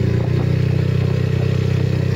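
A Yamaha Mio 125 scooter engine, built up to 174cc, idles steadily close by with a loud, even, pulsing drone and a faint mechanical clatter, and no voices over it.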